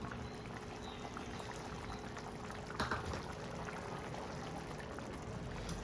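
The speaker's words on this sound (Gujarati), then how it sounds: "મેં ગરમ પાણી એડ કરી અને થોડુંક ઉકળવા દઈશું" A pot of vegetable curry with added hot water bubbles at a steady boil, a continuous low hiss and churn with a brief louder gurgle partway through.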